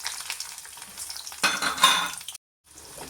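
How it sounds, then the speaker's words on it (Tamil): Small shallots sautéing and sizzling in hot oil with tempered spices for a Nellai dried-fish curry, with steady frying crackle, stirring scrapes and a few utensil clinks, then a brief silence before the sizzle resumes. "வெங்காயம் நல்லா வெந்து வர்ற வரைக்கும் கொஞ்சம் நல்லா வதக்கிக்கிடுவோம்"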